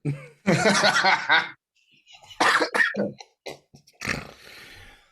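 Bursts of coughing mixed with snickering laughter, close and loud, in several separate fits with short pauses between.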